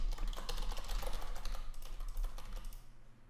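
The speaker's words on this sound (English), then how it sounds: "just type some information in here" Fingers type steadily on a computer keyboard at close range, a quick, continuous run of key clicks that lasts about three seconds and then stops.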